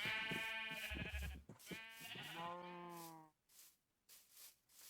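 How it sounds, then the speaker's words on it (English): Sheep in a Minecraft auto farm bleat in several overlapping, wavering calls, loud and close, then a few shorter, quieter bleats after a brief pause. "She's got a lot of sheep."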